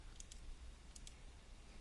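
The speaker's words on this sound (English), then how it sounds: "and I'm just mouse clicking." A computer mouse clicks during drawing work in Inkscape, two quick pairs of faint, sharp clicks about a second apart over a low steady room hum.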